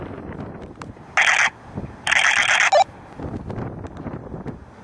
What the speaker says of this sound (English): And that sound is the camera firing.